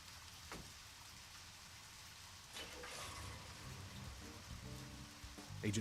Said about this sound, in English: so when it starts raining, he puts on a poncho